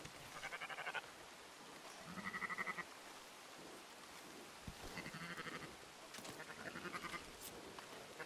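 Sheep give several faint, distant bleats in short bursts, separated by quiet gaps, over a soft steady background hiss.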